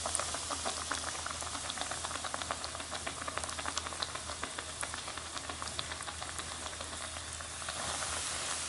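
Breadcrumbs sprinkled into hot frying oil for tonkatsu sizzle and bubble in a dense, steady crackle that carries on evenly throughout, with no voices.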